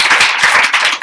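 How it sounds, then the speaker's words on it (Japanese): A brief burst of audience clapping at a Japanese lecture-style talk, many hands striking in quick, dense succession, loud and close, fading slightly at the end. "拍手してもいいんじゃない？"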